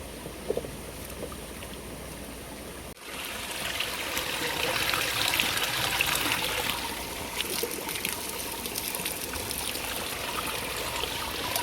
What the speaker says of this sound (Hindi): अभी यहाँ से हम भरेंगे फ्रेश पानी, फ्रेश चश्मे का पानी।